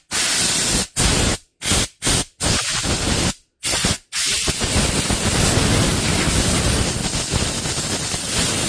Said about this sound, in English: I'll use the compressor to maybe dry that off.